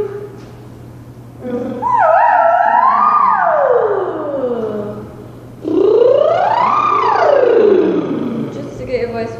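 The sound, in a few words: voice imitating siren in singing warm-up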